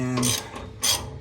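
Inner and outer tie rods on a vehicle being tightened down with a ratcheting tool during a power steering conversion, heard as two short ratchet bursts close up.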